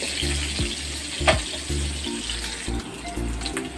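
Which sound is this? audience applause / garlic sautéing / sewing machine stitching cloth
garlic sautéing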